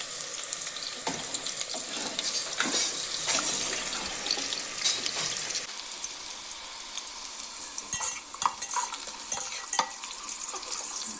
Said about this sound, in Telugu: ఆనియన్స్ గోల్డెన్ బ్రౌన్ వచ్చిందాక ఫ్రై చేసుకోవాలి